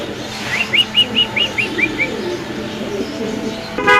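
A bird gives a run of short, rising chirping calls, about eight in quick succession, over a steady background hum with a distant engine-like rumble, where pigeons are kept for sale.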